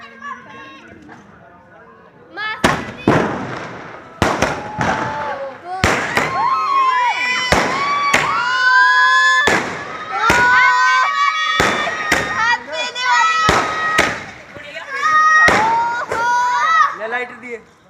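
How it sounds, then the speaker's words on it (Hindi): Diwali firecrackers and a 50-shot fireworks cake fire a loud series of sharp bangs, spaced roughly one to two seconds apart. Children's voices and crowd chatter run between the blasts. "आज है दिवाली इसलिए हम बजा रहे हैं पटाखे"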